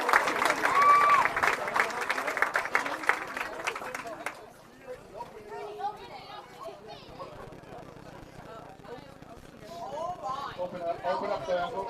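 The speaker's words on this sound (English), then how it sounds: "a nice round of applause for all of our bowlers here this afternoon" Spectators at a girls' high school bowling district tournament applaud the bowlers, clapping strongest in the first few seconds then fading into crowd chatter and murmuring voices, with some whistling or chirps in the room.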